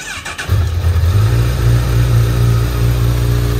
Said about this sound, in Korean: 순수 4기통 엔진 사운드를 귀담아 들어본 건 이번이 처음이라고 볼 수